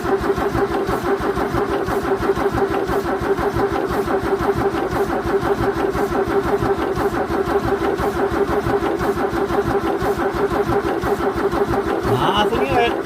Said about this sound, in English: The ignition's off, it's not going to start, but it will crank over